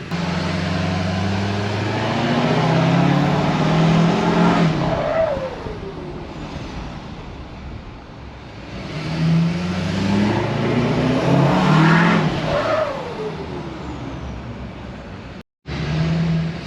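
A Pontiac GTO's V8 engine accelerates twice, rumbling up through the revs with a shift in between, heard steadily from inside the car.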